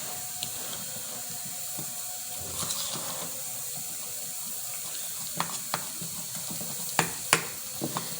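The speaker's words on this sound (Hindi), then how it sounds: "अब हम इसका घोल बनाएंगे इस तरीके से। इसमें लम्स नहीं रहे कोई भी। मैं इसको अच्छी से घोलूंगी।" Wheat flour is whisked with water into a smooth, lump-free batter for nihari, giving a soft, wet swishing with scattered light clicks and taps of the utensil against the bowl.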